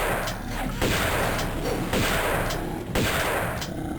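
Repeated gunshots from Tomb Raider II gameplay, several loud sharp cracks spaced over a few seconds against a dense, noisy game soundtrack.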